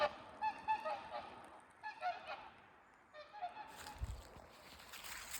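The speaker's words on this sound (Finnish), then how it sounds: "Joutsenia." Swans calling near a snowy, icy lakeside cabin, several bugling honks in clustered bursts, moderately distant, with a brief low thump and faint rustle toward the end.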